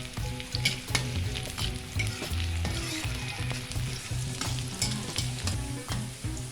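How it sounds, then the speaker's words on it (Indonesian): Chopped garlic and shallots frying in oil in a pan, a loud, dense, steady sizzle with frequent scraping taps of a spatula stirring, up close and without voices. "Kita masukin juga bawang putihnya biar agak kering dan wangi."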